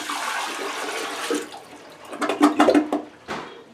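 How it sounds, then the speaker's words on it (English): Water is poured into a toilet bowl during a toilet replacement, a rushing splash at first, then gurgling, bubbling bursts as the water is pushed out of the bowl, close and fairly loud. "Pouring water."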